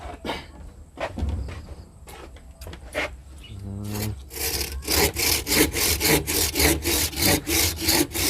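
After a few scattered knocks and scrapes, a hand saw cuts wood in steady back-and-forth strokes, rhythmic and close, about two strokes per second.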